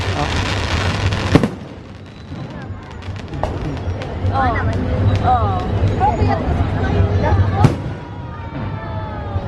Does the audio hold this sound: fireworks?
yes